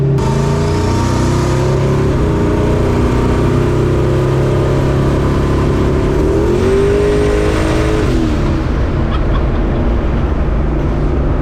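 Turbocharged Chevy S10 truck accelerating hard, a loud, close, continuous engine roar heard from inside, the pitch climbing and then briefly dropping as it shifts, with the turbo spooling quickly.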